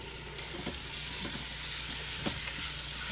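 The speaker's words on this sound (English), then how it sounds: "You want to go ahead and saute that all in, mix it in, make sure it doesn't burn to the bottom" Spice-rubbed pork sizzles steadily in hot oil in an Instant Pot, a constant frying hiss with a few soft clicks and scrapes of stirring.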